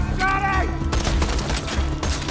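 Shotgun blasts in Borderlands 2 against a shotgun-wielding midget enemy, two or three loud booming shots amid game noise, with a voice speaking at the start.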